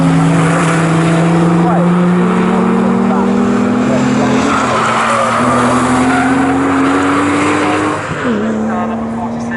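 Porsche race cars at Snetterton accelerating out of a corner, loud engines droning and rising in pitch together, one note dipping briefly near the end, with a commentator talking over them.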